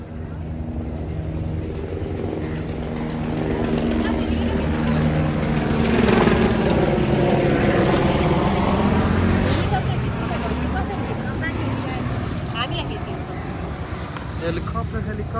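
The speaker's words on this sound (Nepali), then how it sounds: "helicopter helicopter" A helicopter passes overhead in an outdoor setting, its rotor drone swelling to a peak midway and then fading, while people talk over it.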